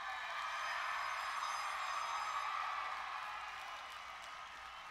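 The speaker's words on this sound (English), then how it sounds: "how about one more applause for the graduating class of" A crowd applauds the graduating class of 2021 at a commencement ceremony, a dense, steady wash of clapping that fades slightly toward the end.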